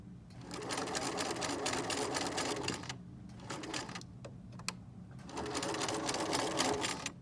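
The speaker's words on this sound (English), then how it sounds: "I'm going to sew all the way up to there, back stitch there" A sewing machine stitches the side seams of a fabric project bag, close and steady with rapid mechanical whirring in long runs, broken by two short pauses before sewing resumes.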